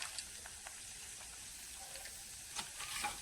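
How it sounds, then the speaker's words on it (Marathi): Cashews, almonds and cardamom fry in a pan for wheat lapsi, a soft steady sizzle with faint stirring clicks, close and quiet with no talk. "हे पण चांगलं फ्राय करून घेऊया"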